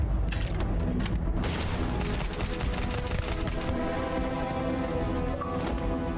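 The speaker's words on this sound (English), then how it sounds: "They're like bombing the crap out of me." Dense, continuous gunfire and explosions from enemies in the Starfield space RPG, with rapid bursts of shots and booming blasts layered into a loud, sustained battle din throughout.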